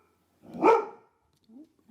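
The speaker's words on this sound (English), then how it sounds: "the dog's going" A single close, loud dog bark rings out clearly, followed after a short pause by a faint, brief low vocal sound.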